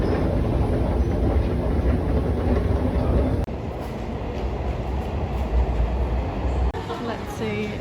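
A Sydney metro train rides along the rails with a loud, continuous rolling rumble and rattle heard from inside the carriage, steady throughout with a faint wheel squeal.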